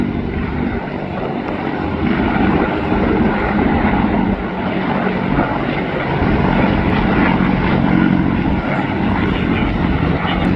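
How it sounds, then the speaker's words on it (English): A large USMC CH-53E Super Stallion helicopter's rotor and engine drone steadily overhead at an airshow, a thick continuous rumble that swells slightly louder toward the end. "That Super Stallion, that's what you call a big helicopter."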